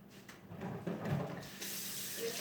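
A kitchen tap runs while something is rinsed under it, giving a steady close splashing hiss that swells as the flow strikes the item.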